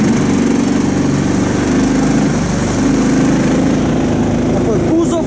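A small all-terrain vehicle engine runs at a steady, rattling idle close by, loud and continuous, with a voice speaking faintly underneath.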